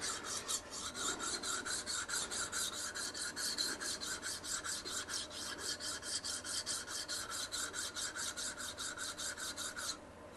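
A file works along the back of an axe blade in steady, quick back-and-forth strokes, a continuous rhythmic rasping heard close and alone for about ten seconds.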